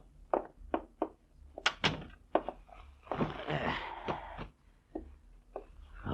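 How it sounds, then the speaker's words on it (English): Door opening and closing as a radio drama effect in a 1950 detective show, heard as several sharp thunks and knocks with a brief rustling stretch between, set among pauses in dialogue. "Get the door, will you?"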